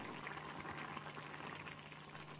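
Water at a rolling boil in a pot for duck red curry bubbles steadily and quietly, a continuous soft churning with a faint low hum underneath.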